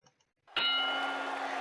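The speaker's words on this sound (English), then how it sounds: "There's the bell for round one." A boxing ring bell in the Title Bout Boxing video game rings once for round one, a clear metallic ding struck after faint ticks and left to sustain with a long ringing tone.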